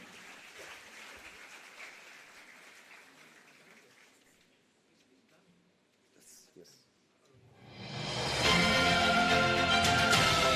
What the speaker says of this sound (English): Can I have a lot of applause, ladies and gentlemen?